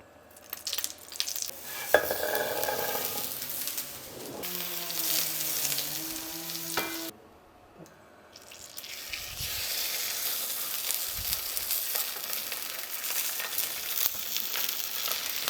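Olive oil sizzles and crackles steadily in a hot frying pan, with a brief clatter and a short pause partway through.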